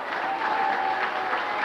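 An audience at a strongman contest claps steadily, a sustained wash of applause from a crowd.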